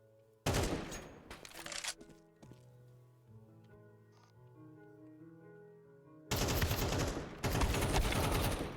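Loud bursts of rapid gunfire in Lethal Company come in two separate volleys, with softer layered game tones and quiet effects in between.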